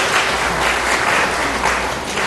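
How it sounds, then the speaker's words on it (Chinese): A church congregation applauding in praise of God during a Sunday Mandarin-language service, a dense, loud burst of clapping that holds steady throughout, no voices over it. "我们一起用掌声来赞美主"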